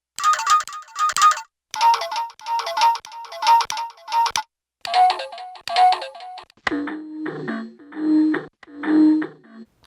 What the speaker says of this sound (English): it's kind of fading in and out a little bit. That's kind of what tremolo is. It's a modulation of the volume.